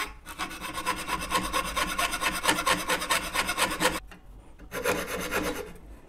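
A very thin fretsaw-type blade cuts a brass inlay set in wood with fast, even, light strokes, a close, buzzy rasping that pauses briefly, then resumes for a shorter burst.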